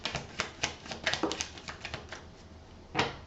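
Tarot cards being shuffled and drawn: a run of soft, close papery snaps and flicks at an irregular pace, fading to quieter handling and then one last sharp card slap.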